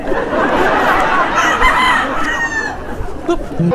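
A gamefowl rooster crows loudly up close, a long strained call, followed by a few short clucks.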